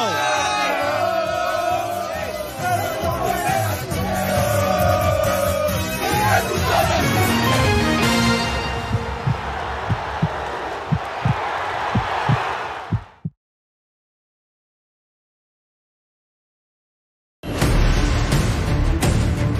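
Palmeiras fans roar in a Brasileirão 2022 title celebration, a loud, swelling crowd cheer that rises out of music, cuts to silence, then bursts back in at full volume.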